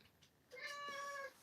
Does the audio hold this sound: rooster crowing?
no